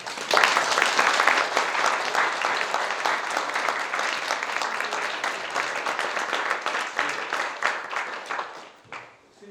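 Applause from an audience at a Buddhist dharma service for soldiers, a dense steady wash of many hands clapping for about nine seconds before thinning and fading at the end.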